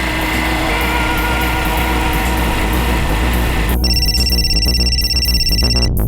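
A telephone rings at night in a crime drama scene, its bright electronic ringtone pulsing loudly in repeated bursts for the last couple of seconds after a steady background drone.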